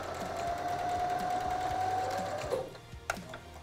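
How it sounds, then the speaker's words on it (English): A sewing machine runs steadily up close, stitching an old sheet into a cushion cover. Its whirring hum continues for a few seconds, then stops with a couple of mechanical clicks. "And all you're going to do now is sew it back up."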